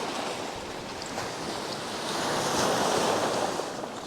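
Sea waves at high tide on Kalpeni island in Lakshadweep give a continuous rushing surf that swells slightly louder midway, with light wind noise and no voices.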